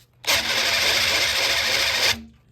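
A cordless drill spins an engine's oil pump to prime it on an engine build for a Ford 351C, 400 or 351M, a steady high whir lasting about two seconds with sharp start and stop.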